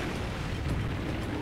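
A dense, rumbling explosion in the video game Monster Hunter 4 Ultimate fills the whole clip, a thick roaring burst with no pause and no voices.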